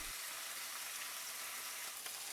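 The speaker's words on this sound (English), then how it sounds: "I also add the sliced onions to the pan, so they can caramelize and become nice and sweet" Smash burger patties and sliced onions frying in a pan: a steady, close hiss of sizzling fat that stays level and unbroken, with no voices.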